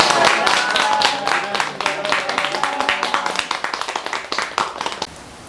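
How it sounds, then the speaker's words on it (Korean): Loud, dense applause from an audience at an elementary school research-results presentation, many hands clapping steadily for about five seconds before tapering off abruptly. "박수를 크게 치고 마치겠습니다"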